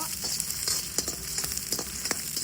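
Green chillies frying in a pan for hotel-style chilli chicken make a steady, close sizzle, with brief stirring clinks and scrapes breaking through the crackle.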